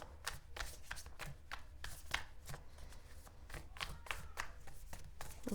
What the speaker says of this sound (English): I'm going to go ahead and keep shuffling. Let's get a nice shuffle in.